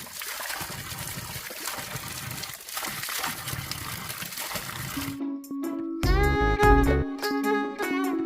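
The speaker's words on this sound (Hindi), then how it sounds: "अपने गाँव के धारे पे हाथ मुँह धोता हूँ ठंडे ठंडे पानी से" Cold water runs from a village spring spout in the hills in a steady trickling stream with splashes as hands and face are washed, then gives way to a brief burst of music near the end.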